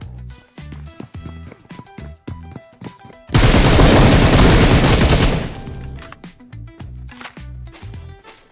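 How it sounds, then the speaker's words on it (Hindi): Gunfire in the mobile battle game BGMI comes as repeated single shots in an uneven rhythm, then a dense two-second burst of continuous automatic fire, after which the spaced shots resume. "नीचे से एक बॉट बार बार गोली चला रहा होता है"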